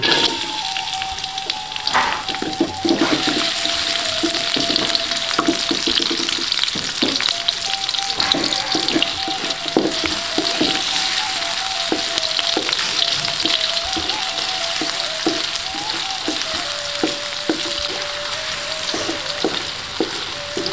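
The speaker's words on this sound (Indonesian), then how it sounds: "Minyak untuk penumis." Oil sizzles and crackles steadily in a pan while cooking kwetiau goreng, an Indonesian fried flat noodle dish, with scattered metallic scrapes and clinks from stirring over a continuous frying hiss.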